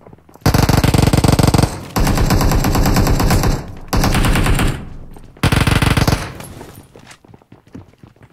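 PUBG Mobile machine gun fire comes in four loud, rapid automatic bursts of about one to two seconds each, separated by short pauses, with no talking.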